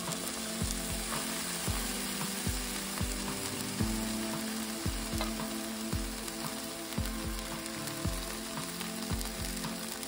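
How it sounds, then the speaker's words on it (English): Onions cook over medium-high heat with a continuous crackling sizzle, and a spoon stirs them now and then with soft, regular clacks against the pan. No one speaks. "I cook the onions over medium high heat for about five minutes"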